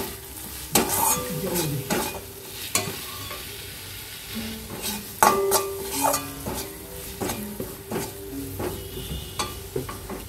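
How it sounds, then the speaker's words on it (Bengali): Spices with cumin powder and Kashmiri chilli powder are stirred in a hot pan, a spatula clinking and scraping in uneven bursts over a soft sizzle, close by with no talking. "এবার সমস্ত মশলাটাকে একসাথে মিক্সড করে নিচ্ছি।"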